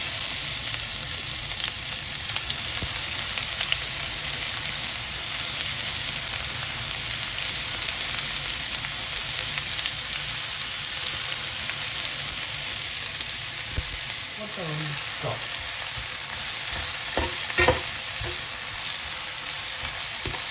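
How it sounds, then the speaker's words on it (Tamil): Chopped onions and chilies sizzle steadily in hot oil in a pan while cooking for Jaffna-style soft dosa, with a few scraping stirs toward the end. "வச்சுட்டு இப்போ வெங்காய மிளகா போட்டு எல்லாத்தையும் பழக்குவோம்"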